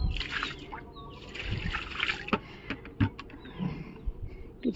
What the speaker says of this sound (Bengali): তো চলো জলটা ঢেলে দিই